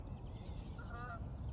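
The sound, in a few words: geese flying overhead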